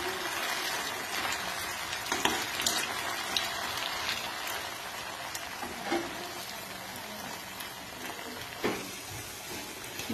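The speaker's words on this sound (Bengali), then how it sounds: "দিয়ে আবার উল্টে পাল্টে লাল লাল করে আবারও ভেজে নেব" Potato sticks fry in hot oil in a pan, giving a constant bubbling sizzle with a few louder spits, heard alone without talk.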